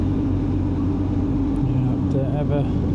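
Heavy trucks in a steady line on the Georgian Military Road, a continuous low engine drone and road rumble close by, with voices talking over it and a brief rising whine near the end.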